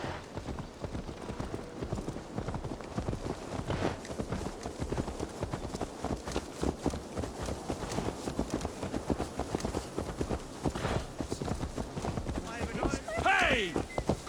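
Horse hooves clip-clopping steadily on hard ground in Assassin's Creed Valhalla, a dense continuous rhythm mixed with background game ambience and voices talking over it, with a brief whinny-like cry near the end.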